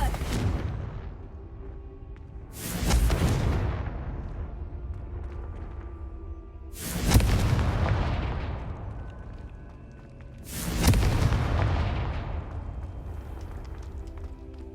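Three loud fire-blast spells explode in Hogwarts Legacy, each a sharp boom with a long roaring decay, spaced a few seconds apart over a low steady game ambience.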